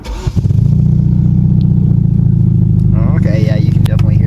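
A 2013 Hyundai Genesis Coupe with the 2.0L turbo engine cranks and fires up, then settles into a loud, steady, throbbing idle heard from close by, with a voice speaking briefly over it near the end.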